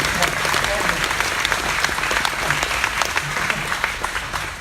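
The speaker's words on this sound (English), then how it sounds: "So please a round of applause for Mike first" A crowd at a game developer's expo event applauds a presenter with dense, loud clapping, while faint voices murmur underneath.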